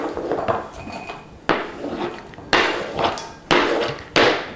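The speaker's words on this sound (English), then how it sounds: "And then drop all this in your nice little salad bowl here." Sliced tomato and cucumber pieces drop into a salad bowl, making a run of about five sharp, clattering impacts close by, each fading quickly, with no talking.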